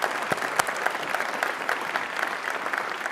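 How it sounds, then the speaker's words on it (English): An audience at a Detroit Economic Club event gives a round of applause, dense steady clapping from many hands filling the room, loud and continuous with a few sharper claps standing out. "Another round of applause for Johnny Taylor."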